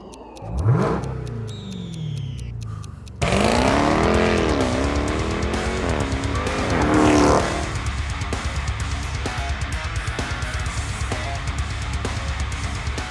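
A 2021 Dodge Durango Hellcat SUV revving hard, then launching with a loud supercharged engine roar and squealing tires. Rising and falling gear pulls follow, close and powerful, with no talk.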